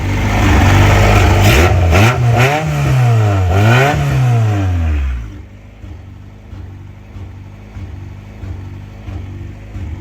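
A rebuilt Honda Civic EF engine revs hard for about five seconds, its pitch climbing and dropping in a few quick surges, then shuts off abruptly, leaving only faint background noise.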